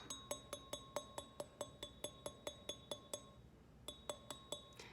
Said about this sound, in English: you want to tip your glass to the side and give it a tap